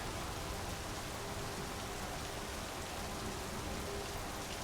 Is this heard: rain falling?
yes